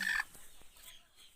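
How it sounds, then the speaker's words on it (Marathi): A hen sitting on her nest in a poultry shed in a garden in Pat village, Konkan, gives one loud, close cluck, then a few softer, low clucks follow. "कोंबडी रवणावर बसलेली आहे"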